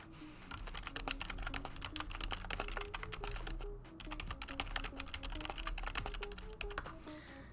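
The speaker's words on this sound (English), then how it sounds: "You know me just typing on stream" Rapid, continuous typing clatters on a computer keyboard during a D&D stream, dense clicks and key thumps with a brief pause midway, over low background music.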